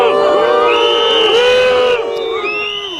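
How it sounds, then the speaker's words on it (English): Factory workers whose jobs are under threat boo and jeer French politician Emmanuel Macron: a loud, dense crowd roar with shrill whistles and rising shouts that carries on without a break, easing slightly toward the end. "Factory workers whose jobs are under threat booed Mr. Macron."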